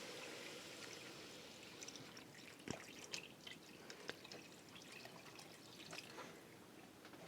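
Water poured into a pot of lentil soup with tinned tomatoes, a faint steady stream and trickle with a few splashing spikes, heard close and alone without talk.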